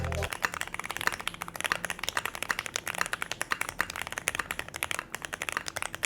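Rapid clattering keystrokes on a custom-built mechanical keyboard, dense and continuous with uneven bursts, close and fairly quiet; a voice talks faintly underneath.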